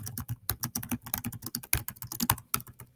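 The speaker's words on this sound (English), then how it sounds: "we would hit enter and then backspace and then tab" Rapid, uneven keystrokes on a computer keyboard while setting up a document, close and clear, with no speech.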